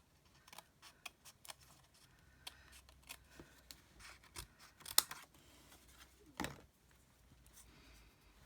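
Scissors snip paper in careful fussy cutting, a quiet close series of irregular crisp clips and rustles with short pauses between, and one sharper snap partway through.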